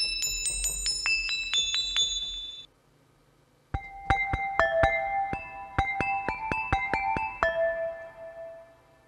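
Bright vintage 1980s-style synthesizer bell tones from UVI Vintage Vault 4 ring out in a quick melodic run, pause for about a second, then return with a longer chiming phrase. Loud, clear, no voices.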